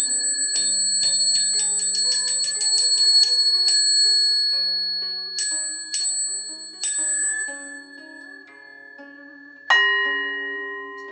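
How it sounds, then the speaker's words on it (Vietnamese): A Buddhist ceremony bell rings during Vu Lan chanting for the seventh lunar month. A quick run of bright metallic strikes comes first, then a few spaced strikes, and finally one loud strike left to ring out and fade. "con xin đánh chuông"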